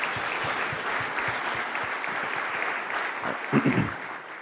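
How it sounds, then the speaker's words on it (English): An audience at a startup pitch competition final applauds a presenter, dense clapping that holds steady before tapering off, with a few louder close claps and brief murmurs near the end. "Give him a round of applause."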